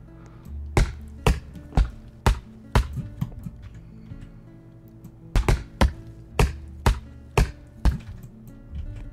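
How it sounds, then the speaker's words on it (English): Axe chopping a tree in Roblox Lumber Tycoon 2, heard as a run of sharp, loud wooden thunks in two bursts with a short pause between them, with no talk over them. "Oh, were you chopping?"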